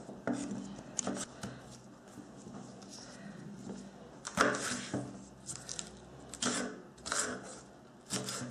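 A knife cuts seeded peppers lengthwise into thin strips on a board, giving steady, close, crisp chops in an uneven rhythm.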